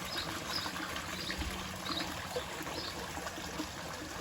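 Water pours steadily into a koi pond, a continuous close trickling and splashing stream with a faint bird or two in the background.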